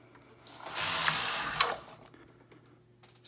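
A sock-knitting machine whirs in one continuous mechanical pass lasting about a second, then falls quiet, close and moderately loud with no speech.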